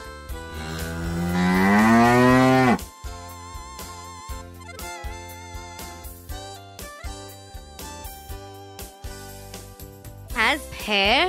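A cow lets out one long, loud, rising moo close by, then gives way to steady background music with a light chiming melody and a brief sliding tone near the end.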